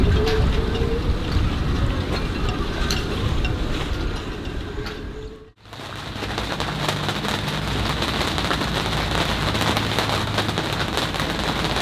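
Steady rain pours down at Lindhamn harbour on the edge of Malmö, a dense, constant hiss of drops on surfaces, cutting out for a moment midway before resuming just as heavily.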